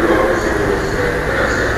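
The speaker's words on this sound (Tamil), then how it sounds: "ட்ரெயின் வருதுப்பா." A train pulls into a station in Kuala Lumpur, Malaysia, a loud, steady rumbling roar with a faint whine above it, heard close up while a voice talks over it.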